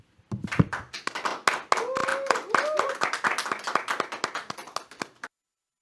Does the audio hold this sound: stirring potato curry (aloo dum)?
no